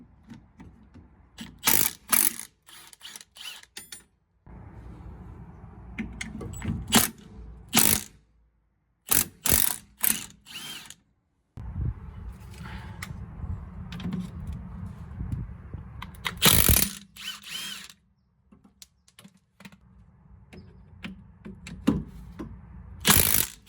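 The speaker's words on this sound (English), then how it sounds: "Milwaukee's Generation 2 mid-torque ratchet" A Milwaukee Generation 2 mid-torque 1/2-inch impact wrench at work, with loud bursts of hammering that start and stop among sharp clicks and mechanical knocks, and quieter gaps between runs.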